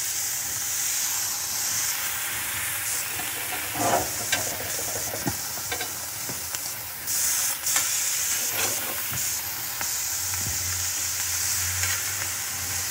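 Halloumi fries in a pan with a steady close sizzle and hiss, broken by several scraping and clattering knocks as the pieces are turned.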